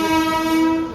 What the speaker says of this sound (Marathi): तर म्हणजे आपली ट्रेन आलेली आहे सिद्धेश्वर.